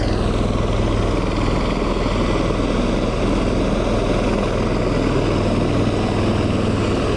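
Marine One, the presidential helicopter, runs its engines and rotors while preparing for takeoff, giving a loud, steady, broadband roar that holds without pause and with no talking.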